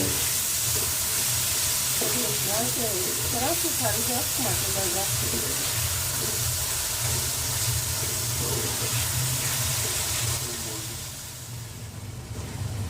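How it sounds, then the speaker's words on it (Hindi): Mutton mince with spices and tomatoes frying in a pan, a steady close hiss and sizzle that runs throughout and eases slightly near the end, with a voice speaking over it. "अब इसको अच्छे से भूनना ताकि टमाटर गल जाए"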